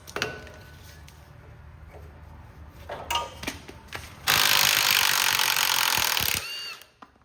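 A ratchet wrench clicks rapidly while loosening 9/16 bolts on a Cub Cadet tractor in a salvage yard, close and sharp, followed by a louder burst of harsh mechanical noise before it stops.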